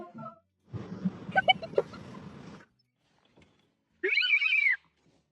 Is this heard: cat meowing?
yes